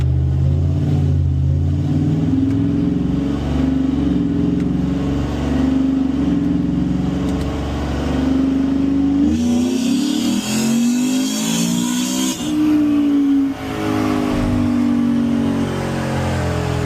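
Whipple-supercharged 2025 Ford F150 5.0 V8 revving on a dyno, a loud, sustained engine roar climbing steadily in pitch, easing briefly, then pulling up hard again and dropping, close and continuous with no talk.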